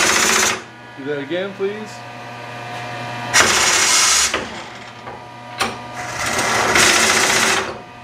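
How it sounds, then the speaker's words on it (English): Atrump B5-FC CNC bed mill running a tool change, with loud bursts of whirring and pneumatic hissing separated by a steady low machine hum, and a voice talking briefly between the bursts. "Now you're going to do a tool change."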